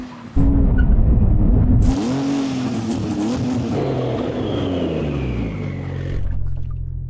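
Porsche 911 GT2 RS and a modified 911 Carrera under hard braking from speed, with loud engine and tyre roar starting abruptly, then descending engine tones as the cars slow over several seconds.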